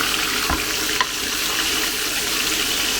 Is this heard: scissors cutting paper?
no